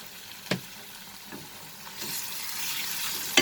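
Ginger garlic paste sizzling with onions in a pan, a soft steady frying hiss that builds over the last second, with a couple of brief clinks or stirs, no talking.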